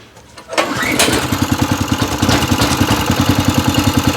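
A Loncin LC-750 walk-behind tractor's small engine sputters and catches, then settles into a loud, rapid, steady chugging idle close by.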